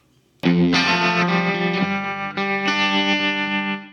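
Electric guitar with a Seymour Duncan Little '59 pickup rings out through reverb and delay, a few sustained chords struck in sequence, loud and close with lingering echoed tails.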